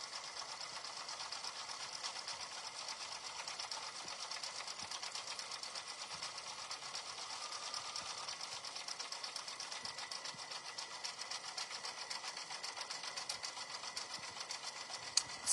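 A sewing machine runs at high speed doing dense satin stitching, making a steady, continuous whir with fast even pulses that stay constant throughout, fairly faint and with no talking.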